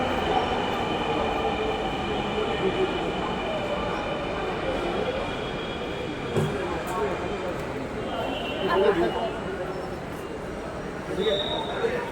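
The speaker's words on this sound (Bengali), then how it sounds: "ফাইনালি আমরা মেট্রোতে উঠলাম" A metro train rumbles steadily with a broad roar and some high metallic squeals from the wheels, continuous and fairly close.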